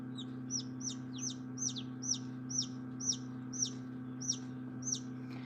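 A newly hatched chicken chick peeping in an incubator: a steady run of about a dozen high, bright chirps at a quick, regular pace, faint against a constant low machine hum.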